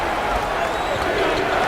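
Crowd noise in a basketball arena from a simulated college basketball game, a steady, moderately loud roar of murmuring spectators with faint scattered cheers and claps, continuous and diffuse.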